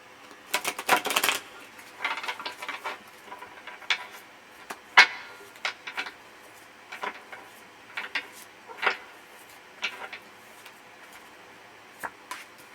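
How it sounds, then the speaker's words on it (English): A deck of tarot cards is shuffled by hand, producing irregular crisp flicks, snaps and soft riffles at close range, scattered across several seconds with short pauses. "But I'm not done shuffling."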